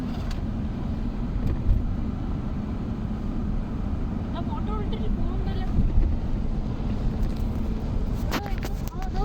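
A private boat crosses the open sea on the way to Masirah Island, its engine a steady low rumble mixed with wind buffeting the microphone, with occasional faint clicks and no clear talk.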